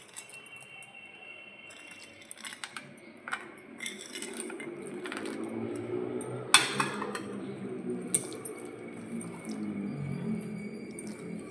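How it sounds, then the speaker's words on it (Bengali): A spoon stirs chopped fruit into a thick batter in a bowl, giving soft wet squelches mixed with scattered clinks and scrapes against the bowl. The sound is fairly close and moderately quiet, with no talking. "এইবারেতে এই যে ফ্রুটসগুলো দেখছো, এটা আমি এখানে সব মিশিয়ে দিচ্ছি"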